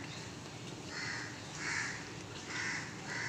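A crow caws repeatedly outdoors, four or five harsh calls spaced about a second apart, moderately distant over a steady background hiss.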